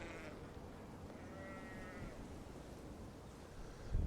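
An old ewe of about eight or nine years bleats in a field, a faint wavering call heard once mid-clip against quiet outdoor background, with a soft thump near the end.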